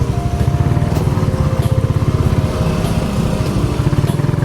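Motorcycle without a fairing riding along a rough, uneven rural road, its engine throbbing in a fast steady pulse close by, loud and continuous with slight variations as it rolls over the bumpy surface, no voices.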